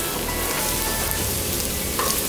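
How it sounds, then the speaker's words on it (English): Eggs and tomato stir-frying in a hot pan, a steady dense sizzle held at even loudness throughout, close and without voices. "And then just fry for about probably 45 seconds to a minute max."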